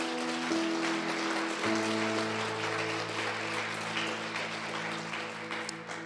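A church congregation applauds during a sermon, continuous clapping heard alongside sustained organ or keyboard chords, loud and steady.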